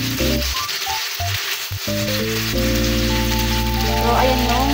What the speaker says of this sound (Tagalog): So yung tokwa piniprito ko na po.